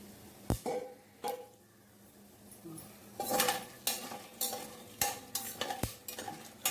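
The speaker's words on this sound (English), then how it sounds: "Fry all the ingredients until they are aromatic." Whole spices such as cloves and green cardamom frying in oil for egg biryani, stirred with a utensil: sharp scrapes and clinks against the pan, several in quick bursts over a faint sizzle, no talking.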